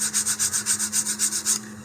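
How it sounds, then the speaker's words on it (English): A model rocket fin's corner edge being sanded with quick back-and-forth strokes, about a dozen close, even rasping rubs in a steady rhythm, then stopping. "sanding down the corner edge a little bit. I'm doing that, flipping back and forth."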